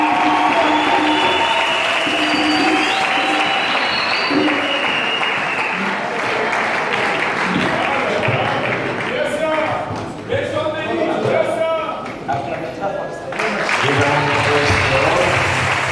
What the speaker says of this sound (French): Encore une fois de plus, acclamez très fort le Seigneur Jésus.